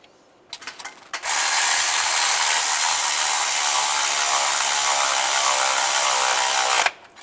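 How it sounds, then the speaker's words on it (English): A ratchet tightens the belt tensioner bolts on a 2007-2013 Chevy Silverado during timing cover replacement. A few short clicks lead into a loud, continuous, rapid ratcheting whir lasting about five seconds, which then cuts off sharply. "Put the belt tensioner on, line that up, and tighten the bolts down"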